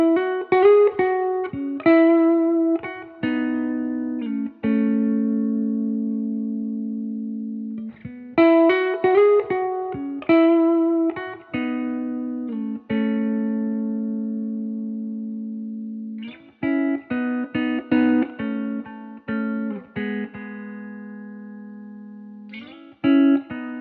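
An Epiphone Inspired by Gibson ES335 electric guitar in olive drab green played through effects, bright chorused chords and picked phrases ringing out between pauses, clean and alone.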